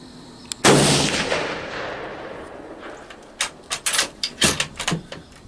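A rifle shot fired while deer hunting, one loud sharp blast with a long rolling echo, followed by a quick series of softer thumps and clicks from handling the gun.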